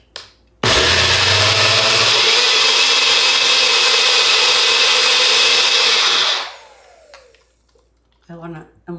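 A blender whirs loud and steady for about six seconds, mixing a cilantro and lemon dressing, then cuts off abruptly and winds down. A brief voice follows at the end.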